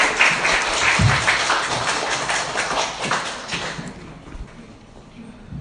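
A church congregation applauds at a revival meeting, welcoming the pastor to the pulpit; a dense, fairly close burst of clapping that tapers off toward the end.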